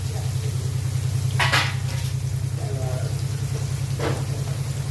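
Onions frying in a pan for sardine fish kulambu are stirred with a utensil. Two brief scraping strokes stand out over a steady low hum, with the frying itself faint in the background.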